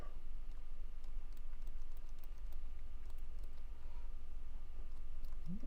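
Keys tapped on an old laptop keyboard from a 29-year-old machine, a steady run of light clicks and taps over a constant background hum, with no voices.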